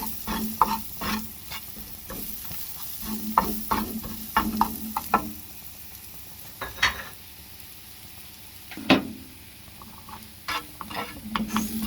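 Four eggs with red chilli, salt and black pepper frying in a pan, giving a steady sizzle broken by repeated clinks and scrapes of stirring, close and clear with no voices.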